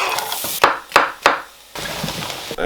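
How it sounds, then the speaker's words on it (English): Onions sautéing in a frying pan give off a steady hiss, broken by three sharp, close spatula knocks against the pan midway, then the sizzle continues alone. "in order to save time I'm already gonna saute the onions"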